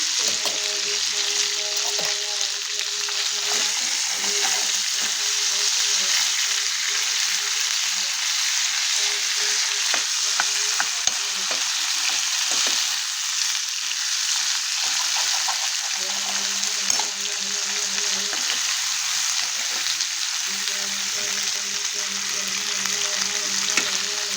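Chicken pieces frying in a pan with masala and a little ginger, giving a continuous, fairly loud sizzle that runs steadily throughout, with a faint voice and hum surfacing at moments underneath.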